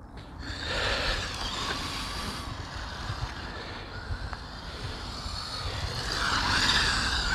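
A Pinecone Models SG1603 RC drift car drives about with a continuous whirring electric motor whine that swells and fades as it moves, tyres scrubbing underneath, fairly close with no speech.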